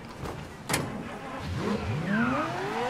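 Car in the video game Mafia 3 revving as it drives, a sharp knock and then the engine rising and sweeping up through gears, moderately close and fairly quiet, with no talking.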